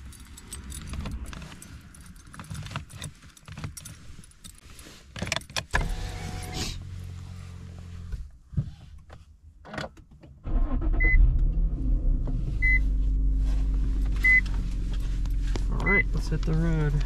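A 2008 Infiniti M35X, a pretty old car, is handled with jangling keys and whirring power windows, then its engine starts and runs steadily while a driver talks over it, with a few chimes near the end.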